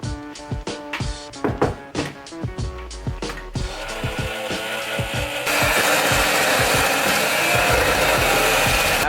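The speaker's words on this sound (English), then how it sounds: "I'm going to be using this hand mixer here." Electric hand mixer beating protein pumpkin pie batter: clattering, irregular knocks at first, then a steady loud whirring motor hum that runs on to the end, with no talk.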